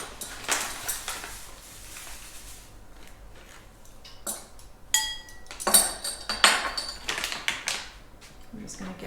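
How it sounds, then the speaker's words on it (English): Granulated stevia stirred into warm melted butter for keto mini cheesecakes, a spoon clinking and scraping around the bowl in bursts while someone talks over it. "I'm just going to give that a stir and just dissolve that"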